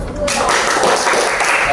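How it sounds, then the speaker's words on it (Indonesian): A classroom audience at a madrasa school applauds a student group after its practical-exam presentation, a short burst of dense, loud clapping close by. "tepuk tangan untuk kelompok 2"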